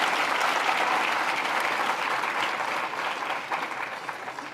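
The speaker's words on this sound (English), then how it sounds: "Yes, we can clap for that." Sustained applause from a luncheon audience at an award event honoring a prime minister, a dense, steady wash of clapping that holds loud throughout and eases slightly toward the end.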